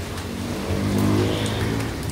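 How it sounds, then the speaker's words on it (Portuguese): Rain falls in a steady, dense patter nearby, an even wash of sound with no voices. "Olha a chuva."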